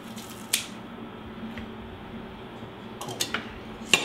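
Kitchen scissors snip through raw chicken in a few short, crisp cuts: one snip early, then a quick cluster of clicks and a final snip, over a quiet kitchen background.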